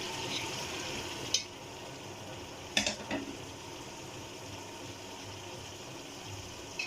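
Tomatoes go into browned onions frying in a pan for smoky baingan bharta, giving a low, soft sizzle throughout with a few brief clicks and scrapes of a utensil, and no talk.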